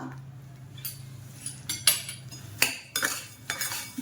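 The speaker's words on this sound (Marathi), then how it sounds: "याला चांगलं मिक्स करून घ्यायचं असं" Sesame ladoo mixture with half a spoon of cardamom powder being stirred, a spoon knocking and scraping a metal pot in several sharp clinks spread irregularly over a steady low hum.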